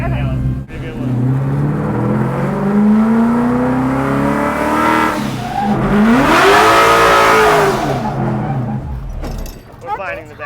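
A Ford-event drift car revs hard, its engine note rising and falling in long sweeping pulls, with tire noise building midway, while people talk over it inside the car.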